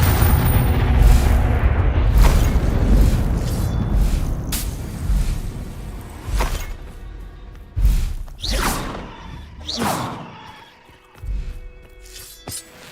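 Confringo fire spells explode in Hogwarts Legacy combat, a string of loud booming blasts and cracks over about thirteen seconds, with heavy rumble early and sharper separate impacts later.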